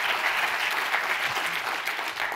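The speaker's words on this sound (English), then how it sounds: "Please give him a really big Irish boulibus. We welcome Will Reynolds to the stage" Audience applause welcoming a speaker onto a conference stage, a dense steady wash of clapping from a large crowd throughout, loud and sustained with no talk over it.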